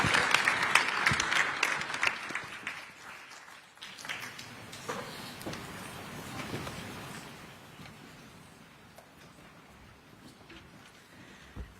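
A packed audience at an energy security summit in Baton Rouge, Louisiana, applauds a panel with dense, sustained clapping that starts loud and gradually thins and fades over about twelve seconds.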